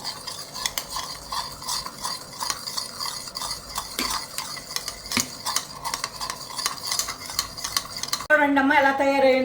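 A spoon stirring a leaf paste with coconut oil in a bowl, with repeated close scraping and soft tapping strokes, and a voice talking briefly at the end.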